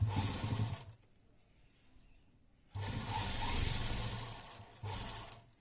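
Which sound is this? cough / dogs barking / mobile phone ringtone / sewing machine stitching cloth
sewing machine stitching cloth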